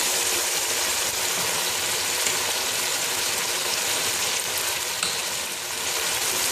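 Boneless chicken fries in a hot pan as white vinegar is added, producing a loud, dense, continuous sizzle with faint stirring scrapes and no talk.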